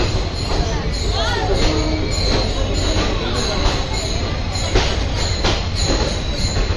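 A high-speed diesel train, the Meenakshi Express, stands at Madurai station amid a packed platform crowd, with a steady rumble, a few sharp metallic squeals and clanks, and people talking throughout.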